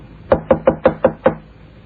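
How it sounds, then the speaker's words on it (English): Six quick, firm knocks on a hotel room door, evenly spaced and close by, followed by silence. "Knock again."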